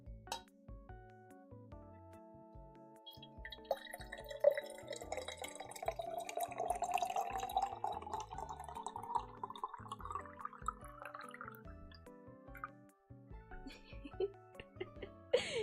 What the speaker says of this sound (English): Let me pour myself some water real quick.